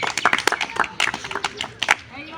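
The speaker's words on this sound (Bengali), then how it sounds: "সকলে জোরে হাততালি।" An audience at a village ball-throwing game claps loudly for a contestant, a burst of scattered, irregular hand claps that fades within a couple of seconds.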